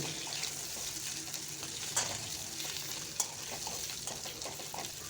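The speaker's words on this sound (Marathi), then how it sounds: "आता हे बटाटे गरम तेलात छान सोडून घ्यायचे आणि छान सोनेरी रंग येईपर्यंत आपल्याला फ्राय करून घ्यायचे आहे" Potatoes frying in hot oil for dum aloo, a steady bright sizzle that fills the whole stretch, with a couple of faint clinks or stirring sounds rising briefly above the frying.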